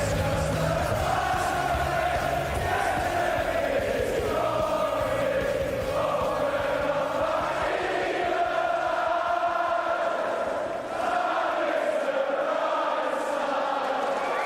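A big darts crowd at the World Matchplay sings along together, a sustained chanted melody filling the arena loudly and steadily without pause.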